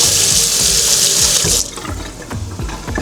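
Tap water runs steadily into a kitchen sink to rinse out a container while cooking burritos, a loud hiss for about a second and a half, then softer splashing and trickling with light clinks.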